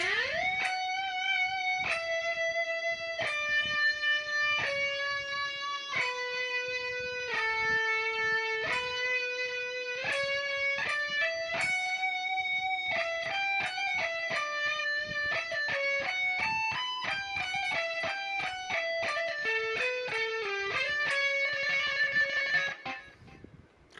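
A song intro on electric guitar plays for a long stretch, picked notes moving up and down in steady rhythm, clear and close, ending with a fading final note.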